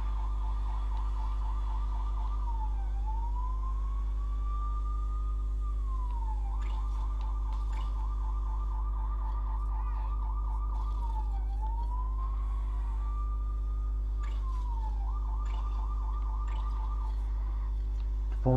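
A police siren in the LEGO City Undercover video game wails in a repeating rising and falling cycle, loud and continuous over a steady low engine drone, with a brief thump at the very end.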